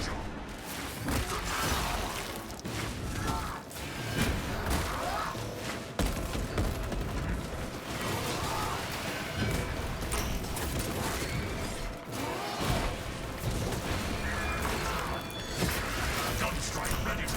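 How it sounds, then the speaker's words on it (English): Servo harness gun firing in the video game Space Marine 2, a dense, continuous barrage of loud mechanical clanking and rapid gunfire that runs throughout with crashing impacts layered over it. "Servo harness gun available. Let the servo gun do its job."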